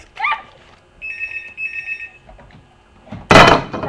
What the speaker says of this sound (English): Oh, hello, I'm on the phone to Connie Nash